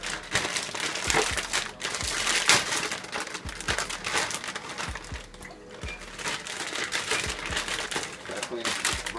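Food, including washed grapes and raw broccoli, is bagged up in a plastic bag, with loud, close crinkling and rustling throughout and a voice speaking now and then.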